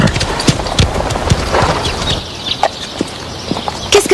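Horse hooves clip-clopping at a walk in an animated series, a steady series of distinct hoof knocks close by with no talk over them.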